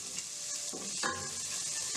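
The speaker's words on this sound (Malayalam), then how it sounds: "നമുക്ക് അരിഞ്ഞ് വെച്ചിരിക്കുന്ന സവോള ഇട്ട് കൊടുക്കാം." Sliced onions frying in a pan for paneer fried rice, with a steady sizzle and a couple of stirring scrapes partway through, close and moderately loud.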